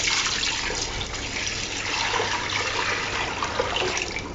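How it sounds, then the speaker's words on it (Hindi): Tap water pours steadily into a cooking pot for boiling rice, a continuous loud rushing splash that holds without a break. "चावल बॉईल करने के लिए सबसे पहले मैं पतीले में पानी शामिल कर रही हूँ।"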